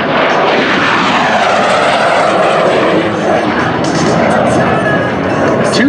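A T-33 Shooting Star jet makes a high-speed pass at an air show, a loud continuous roaring rush with crowd noise mixed in throughout.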